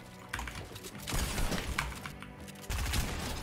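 Dragunov rifle shots in Fortnite: a few sharp, loud cracks spaced irregularly, each with a brief rattling tail, close up over busy game background noise.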